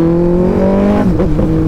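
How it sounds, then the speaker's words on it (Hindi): Suzuki Hayabusa motorcycle engine revving hard in first gear, a loud steady high drone with strong harmonics that dips and wavers midway as the throttle shifts, close to the listener. "आओ पहले बाइक थोड़ी सी खींच के देखते हैं।"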